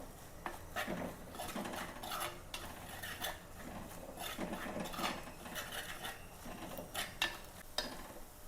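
Chili powder and coriander powder roast in a pan for a fish curry while a spoon stirs and scrapes against the metal, producing steady repeated scraping with scattered clinks, close and moderately loud, with no talking.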